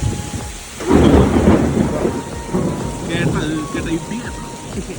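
A loud rumble of thunder rolls in over steady rainfall in Kumarakom, Kerala, then fades back into the hiss of rain, with voices faintly audible.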